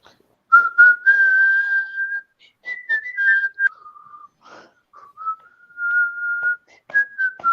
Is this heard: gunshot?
no